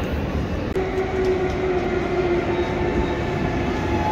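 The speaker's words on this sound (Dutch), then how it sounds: "hier vertrekt dan de Intercity naar Enkhuizen en die gaan we nemen tot aan Hoorn." A Dutch NS Intercity train to Enkhuizen sits at a station platform, with a loud, steady rumble of rolling stock and a sustained tonal whine, a brief clunk near the start.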